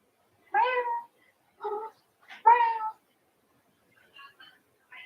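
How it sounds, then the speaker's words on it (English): A cat meows several times close by, short separate calls with pauses between, the last few fainter and quieter. "Sometimes he'll meow back at me"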